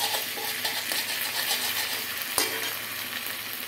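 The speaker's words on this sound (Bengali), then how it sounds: "এবার দিয়ে দেবো রসুন বাটা, দিয়ে একটু নাড়িয়ে নেব" Onions fried until browned, with garlic paste added and stirred in a pan, sizzling steadily at close range with a brief utensil knock near the end; no voices.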